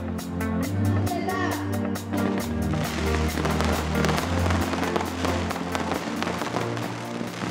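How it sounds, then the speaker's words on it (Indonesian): Fireworks crackle and pop in rapid bursts during the crema of the Valencia Fallas, dense firecracker strings over a low rumble with music underneath, loud and continuous. "Kembang api dinyalakan."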